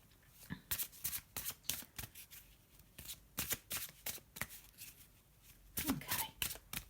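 Repeated crisp riffling and slapping of tarot cards being shuffled, in quick bursts with short pauses, close and fairly quiet.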